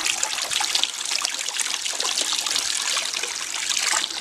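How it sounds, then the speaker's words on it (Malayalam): Water trickling and sloshing around a glass bottle left soaking while its stickers are peeled off, a close, continuous dribbling and splashing with no one speaking. "അപ്പോൾ നമ്മുടെ കുപ്പി നമ്മൾ വെള്ളത്തിലിട്ടിട്ട് കുപ്പിമത്തെ സ്റ്റിക്കറൊക്കെ നമ്മൾ പറിച്ച് കളഞ്ഞിട്ടുണ്ട്"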